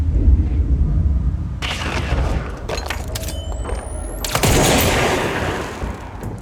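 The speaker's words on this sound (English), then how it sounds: "it looks like that guy is just shooting us from across the way there" Enemy gunfire sounds from across the way in the action game Control, with a loud burst of shots and sharp cracks over a steady low rumble, followed by a longer booming volley.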